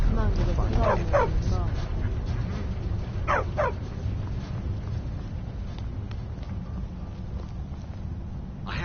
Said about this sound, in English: Don't mind the dogs. They get anxious when they haven't had dinner.